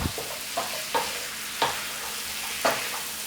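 Kasuri methi stirred into cauliflower and potato aloo gobi in a hot pan: a soft steady sizzle with a few distinct spoon scrapes and taps at irregular intervals, close and without talk.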